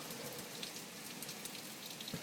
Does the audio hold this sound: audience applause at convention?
no